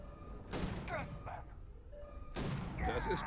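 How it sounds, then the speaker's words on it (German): Shotgun blasts in the Starfield video game, two loud bursts of booming fire with scattered impacts, heard under people talking. "Ich würde sagen, mit meiner Schrotflinte 700 Schuss"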